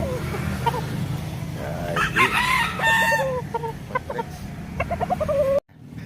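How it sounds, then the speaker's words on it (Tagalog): A large gamecock at a gamefowl yard crows and clucks close by, with short rising calls and bursts of clucking over a low background murmur, ending abruptly. "Ah, pumapalag pa, malaking manok."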